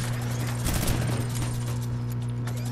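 Rapid bursts of gunfire in the video game Fortnite, a dense crackling volley around the first second over a steady game hum, then thinning to scattered shots.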